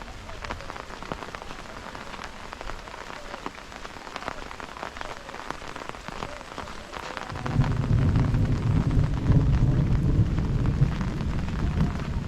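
Heavy rain pours steadily over a green village paddy field, a dense continuous hiss that grows louder and fuller about two-thirds of the way through, with no voices.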